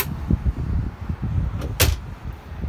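Boat galley drawers on a 2019 Sailfish 275 dual console slide and bump shut nearby, a few short knocks and sliding scrapes followed by a sharper clack.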